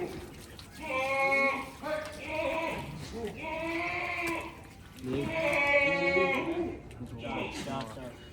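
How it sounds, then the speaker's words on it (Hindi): Goats on a goat farm give several long, wavering bleats in overlapping bursts, close and fairly loud, with short pauses between calls. "बकरी ने एक बार बच्चे दिए हैं सावान भाई, और बकरी की कंडीशन चेक कर"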